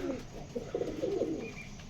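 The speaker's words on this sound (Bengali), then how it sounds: "এক পেয়ার পাকিস্তানি কালসেরা" A pair of Pakistani Kalsera pigeons coo softly, low throaty rolling calls repeated a few times close by at fairly low volume.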